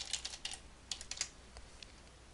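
Fingers typing an email address and password on a computer keyboard, a quick run of soft, close key clicks in small bursts, fairly quiet.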